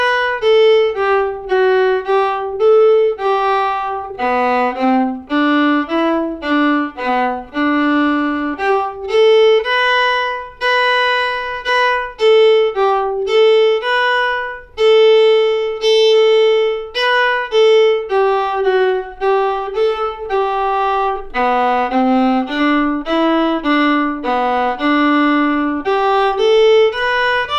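Fiddle playing the A part of the old-time tune Turkey in the Straw at a brisk tempo, a continuous stream of bowed melodic notes with clear harmonics, close and prominent, no talking.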